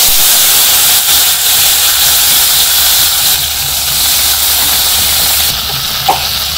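Tomatoes dropped into hot oil in a pan at a village kitchen, a loud close hiss and sizzle that holds steady, then eases slightly, with one small clink near the end.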